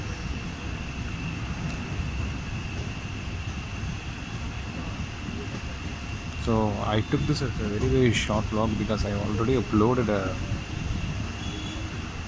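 An MDU MAS AC Express train runs with a steady low rumble and hum inside an air-conditioned coach, while someone talks over it partway through.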